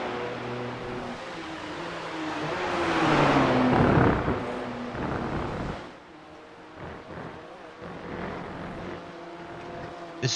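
A BMW M2 race car engine roars in a racing video game, swelling to a loud rising pass and then dropping to a lower, steadier drone.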